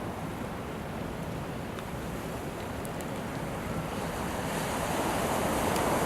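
Pacific Ocean surf at a calm harbor entry in Brookings, Oregon, a continuous broad wash of waves with some wind noise, steady and fairly close, no voices.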